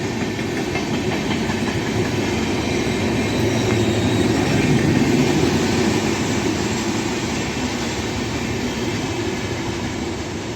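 A passenger train of LHB coaches runs through Sanath Nagar station in Hyderabad, a steady, loud rolling rumble of wheels and wagons that holds for the whole stretch with no voices.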